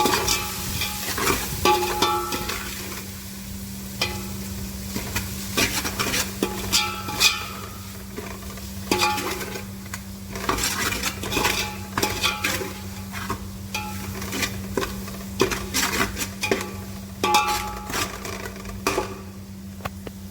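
Spices for Punjabi-style egg masala pasta sizzling in a pan, with a constant close frying hiss and frequent clinks and scrapes of a spoon stirring throughout.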